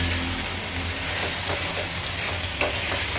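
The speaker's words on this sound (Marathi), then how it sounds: "छान अशी परतून घ्यायची भाजी।" Smashed potato vegetable dish sautéing in a pan, with a steady close sizzle and scraping stir strokes throughout and one sharp clink near the end.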